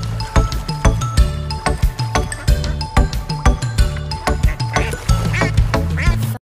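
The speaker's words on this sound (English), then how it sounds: "D is for duck." Repeated loud duck quacks set against a bouncy children's alphabet song with music, the calls coming in a quick rhythmic series close up.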